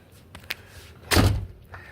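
An interior house door leading from the kitchen swings shut with a single solid thud, preceded by a faint click of the latch and followed by quiet room tone.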